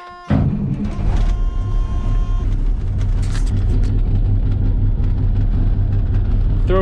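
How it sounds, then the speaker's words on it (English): A starter cranks briefly and a Peterbilt 359 dump truck engine catches, then settles into a loud, rumbling idle that continues steadily. "Let's fire up the truck."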